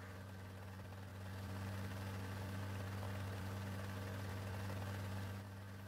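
A Loach helicopter in the Rising Storm 2 video game idles before takeoff, its engine a steady low drone with a strong constant hum that swells slightly after the first second, continuous and quiet.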